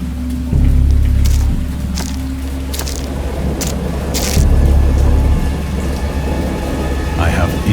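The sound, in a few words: storm with thunder and rain in the video game Dagon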